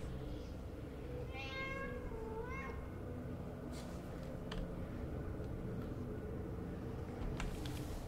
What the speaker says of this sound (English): There's a cat in the corner where I am.